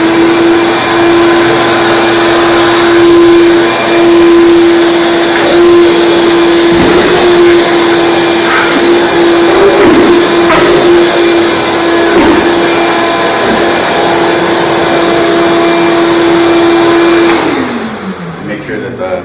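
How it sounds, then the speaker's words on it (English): A vacuum cleaner runs in a woodshop near an oscillating spindle sander, its loud steady whine and airflow roar holding for most of the stretch before the motor winds down and cuts off near the end. "I'm going to grab a vacuum,"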